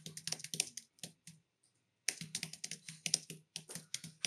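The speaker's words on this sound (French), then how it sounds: "Voilà, vous tapez vraiment" Computer keyboard typing in quick clustered bursts of key clicks, close and fairly loud, with a brief pause midway before the rapid tapping resumes; no talking.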